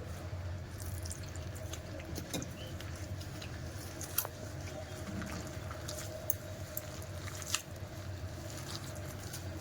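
Wet stirring and mixing as water is poured into a thick onion pakoda batter, a steady squishy patter with a few sharp clinks, close by and without talk.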